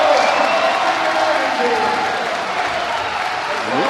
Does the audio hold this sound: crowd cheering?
yes